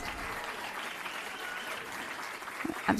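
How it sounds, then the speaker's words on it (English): An audience at an Illinois Democratic Party DNC breakfast applauds State Senator Doris Turner, with steady crowd clapping throughout and a couple of louder, closer claps near the end. "let's give Doris a round of applause"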